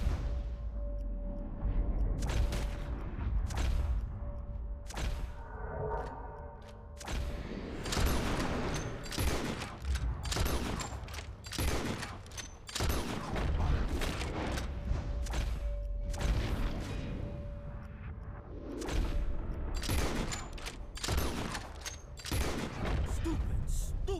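Gunshots fired at birds in the Western video game Red Dead Redemption, a dense, rapid fusillade of sharp cracks and thuds lasting throughout, with speech mixed in.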